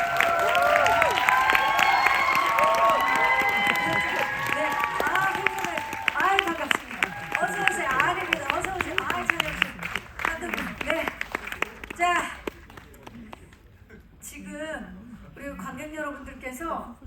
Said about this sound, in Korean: 주역분들을 박수로 모시겠습니다.